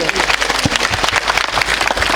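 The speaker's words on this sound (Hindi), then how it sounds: "उनके लिए जोरदार तालियों से स्वागत करिए" Loud applause from an audience welcoming a guest onto the stage at a Kushwaha community gathering, dense steady clapping filling the whole stretch, with a voice faintly audible underneath.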